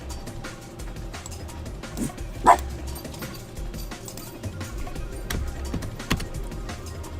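A dog lets out a single short bark at moderate distance. It rises briefly above a quiet indoor room background.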